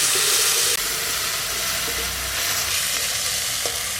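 Bay leaf, dried red chilli, cumin and ginger crackling in hot oil for a fish curry, a dense continuous sizzle with a few small pops, close and steady with no talk.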